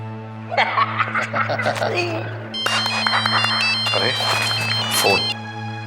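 A telephone rings indoors with a sustained, loud tonal ringtone that runs nearly the whole time, while people laugh and talk over it.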